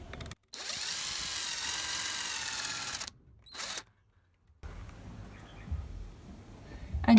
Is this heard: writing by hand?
no